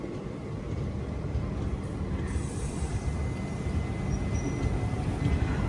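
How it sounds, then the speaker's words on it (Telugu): A WAP-7 electric locomotive hauling the Amaravati–Tirupati superfast express rolls in, a steady broad rumble of wheels and wagons with faint high squeals, moderately loud and continuous without speech. "వాప్ 7 లోకోమోటివ్ అయితే వచ్చింది."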